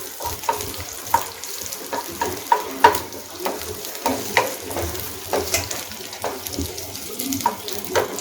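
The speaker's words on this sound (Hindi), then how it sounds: "यहाँ मेरे पास डाइस्ड कैप्सिकम और अनियन है, पहले इसे फ्राई करेंगे" Diced capsicum and onion fry in a pan, a constant crackling hiss with frequent stirring clicks and scrapes of a spatula, heard close and without speech.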